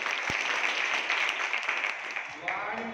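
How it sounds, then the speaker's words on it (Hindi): Students at a school magic-show program clap together in a burst of lively group applause, loud and continuous, ending with a brief voice at the close. "अच्छा, ताली बजाओ सबसे एक बार।"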